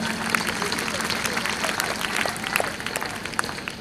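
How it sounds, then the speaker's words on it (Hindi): Students and guests at a school Independence Day celebration clap steadily, a moderate, continuous patter of applause from a gathered audience. "विगत बच्चों के लिए ताली तो जरूरी है।"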